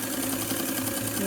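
A zigzag sewing machine runs steadily, stitching a cotton shirt-cuff fabric face mask, a continuous close, fairly quiet mechanical whir with no talking.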